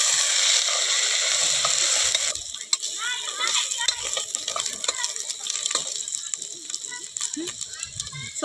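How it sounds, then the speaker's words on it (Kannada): Ginger garlic paste frying with golden brown onions in an outdoor cooking pot, a dense continuous sizzle with scraping stir strokes, and faint voices in the background. "ಇವಾಗ ಚೆನ್ನಾಗಿ ಫ್ರೈ ಮಾಡಬೇಕು, ಹಸಿ ಸ್ಮೆಲ್ ಹೋಗೋವರೆಗೂ ಫ್ರೈ ಮಾಡಬೇಕು"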